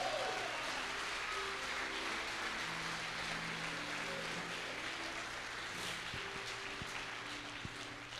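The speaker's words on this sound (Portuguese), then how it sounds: "dá uma salva de palmas ao Senhor." A church congregation at a Sunday morning service claps in sustained, fairly distant applause lasting the whole stretch, with soft sustained keyboard tones underneath and a gentle fade toward the end.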